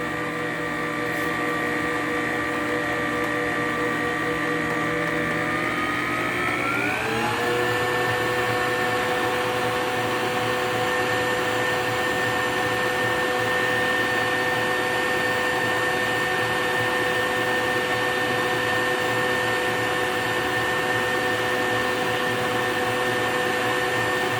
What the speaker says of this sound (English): you don't have to do any more kneading or anything because the machine takes care of that